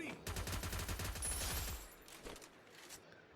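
Rapid gunfire bursts from the Free Fire battle royale game ring out loud and dense for nearly two seconds, then drop to scattered quieter shots and ambient game noise.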